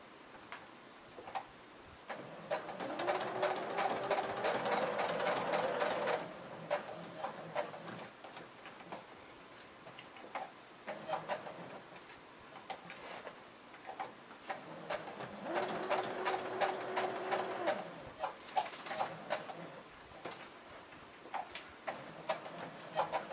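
A sewing machine stitches Velcro onto a cross-body bag, running forward and back in two steady whirring bursts of rapid ticking stitches, close up, with softer handling clicks and pauses between runs.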